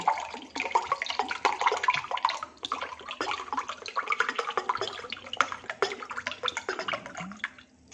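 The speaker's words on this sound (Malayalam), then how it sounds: "വെള്ളം ഒഴിച്ചു കൊടുക്കാം" Water pours steadily into a glass of orange squash for several seconds, a close, continuous splashing trickle that tapers off at the end.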